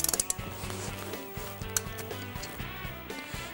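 Torque wrench ratchet clicking as it tightens bolts on a Wilwood Superlight 6R brake rotor for a Mustang, a quick burst of sharp clicks at the start, then steady mechanical ratcheting with repeated tones throughout.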